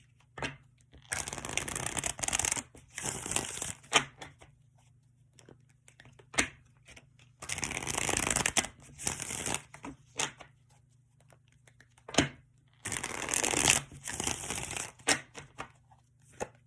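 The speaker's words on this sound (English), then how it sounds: "So I am going to shuffle the deck and see what comes forward." A tarot card deck is shuffled by hand in several crisp, rustling bursts of riffling and cutting, separated by quiet pauses and a few soft taps, close up with no talking.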